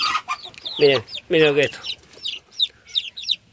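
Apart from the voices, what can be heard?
newly hatched chicks peeping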